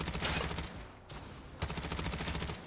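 Bursts of rapid automatic gunfire from a weapon in Call of Duty Mobile, tested at long range, come in two strings separated by a short pause. The shots are fast and evenly spaced, at moderate loudness, with no talk over them.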